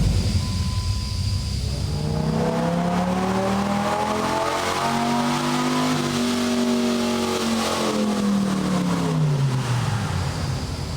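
A lifted pickup truck engine, either a V10 SRT-10 or a twin-turbo V6 F-150, revving hard on a chassis dyno: one long, loud wide-open-throttle pull climbing steadily in pitch, then falling away as it winds down, with no talking.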